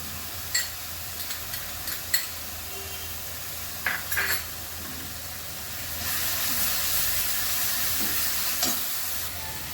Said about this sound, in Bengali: এবার আমি মশলাটা ভালো করে কষিয়ে নেব ফাটানো দইটা দিয়ে দিচ্ছি